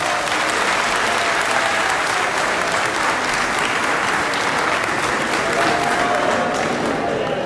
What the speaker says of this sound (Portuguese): Um salve de palmas para o camarada Lucas